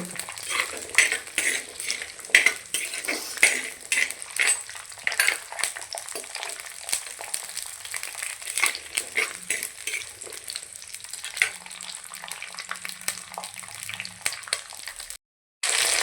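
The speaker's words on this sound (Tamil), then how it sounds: "இப்போ வந்து பார்த்திங்கன்னா வெங்காயம் பூண்டு நல்லா வதங்கிட்டு இருக்குது." Small onions and garlic cloves sautéing in a pan, with steady sizzling and frequent scraping and clinks of a spoon stirring against the metal throughout, ending in a brief silence.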